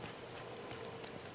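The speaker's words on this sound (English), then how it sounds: "I love the fact that it's raining" Rain falls steadily in the video game Disney Dreamlight Valley, a faint, soft patter of drops heard alone for a brief moment.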